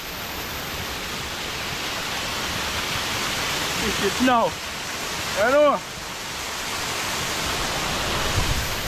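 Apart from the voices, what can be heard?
waterfall rushing in Portland, Jamaica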